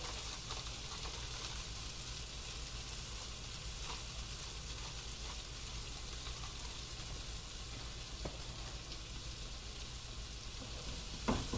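Okra with kitchen king masala and goda masala frying in a pan, a steady close hiss of sizzling oil with faint stirring scrapes throughout, no talk.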